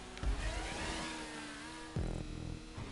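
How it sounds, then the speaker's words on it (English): The fastest motorcycle in GTA 5 revs its engine in rising and falling pulls, with a sharp surge near the end, close and clear with no talking. "I'm in the fastest motorcycle in the game"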